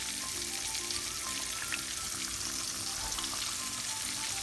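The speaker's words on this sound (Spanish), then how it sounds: "Ya puse mi pollo, amigos, a freír después de que quedó muy bien empanizado." Breaded chicken fries in very hot oil, a continuous loud close sizzle with crackling bubbles and a faint tonal hum underneath, no voices.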